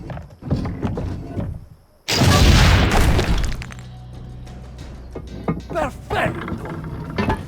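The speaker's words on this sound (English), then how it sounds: "a lot of cannon work in this one" Cannon fire in Assassin's Creed Brotherhood: one loud, booming blast with a crackling tail that rings on for about a second and a half, framed by game voices talking before and after it.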